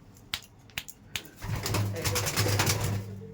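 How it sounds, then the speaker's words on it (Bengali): Pigeons in a loft coo steadily in a low, throaty murmur, preceded by a few sharp taps or flaps, with several birds overlapping close by. "ফিমেলটা দেখুন কত সুন্দর সুন্দর পায়রা আছে বিপ্রদার কাছে।"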